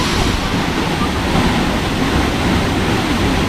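Steady broadband rush of water at the Jok Kradin waterfall in Pilok, Thailand, a constant loud roar close by with some wind buffeting and no talk.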